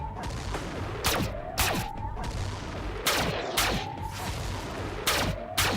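Missiles fired in the strategy game Xenonauts 2 launch in a repeating pattern of sharp blasts with rising whooshes, pairs of shots recurring every couple of seconds over a low rumbling backdrop.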